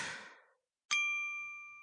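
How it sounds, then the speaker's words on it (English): A single bright chime rings out after a brief noisy burst and a pause, its clear tones sustaining and slowly fading. "Whoever was ringing the bell"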